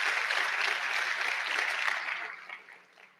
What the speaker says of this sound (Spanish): Un aplauso para todas las mujeres que tienen ese don de fe.